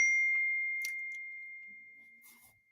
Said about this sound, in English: I don't know why my computer rings, my phone's turned off and everything else, but that's the way it is on my brand new laptop Apple computer